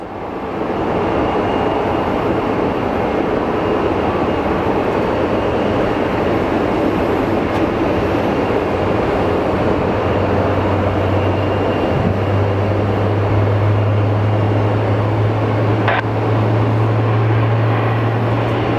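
An American Airlines airplane at Phoenix Sky Harbor Airport, a loud, steady jet roar filling the whole stretch with a low rumbling drone that grows stronger in the second half, heard alone without talk.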